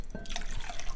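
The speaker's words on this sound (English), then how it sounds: "And then we are going to add our 1 cup of cold water." One cup of cold water poured into a cranberry salad mixture, a brief close splash and trickle of liquid heard alone.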